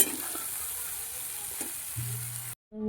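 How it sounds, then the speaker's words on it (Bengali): Soybean chunks fry in plenty of oil, giving a steady, close crackling sizzle with a few stirring scrapes before the sound cuts off abruptly near the end. "আমি কিন্তু সয়াবিন ভাজা করি তেল বেশি দিয়ে সয়াবিনটা ভালো করে ভেজে নিই"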